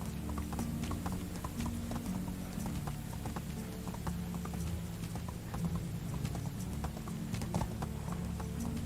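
Horse hooves from the medieval-life video game Medieval Dynasty, a steady, continuous clip-clop at riding pace, close and even in loudness throughout, over a low droning game background.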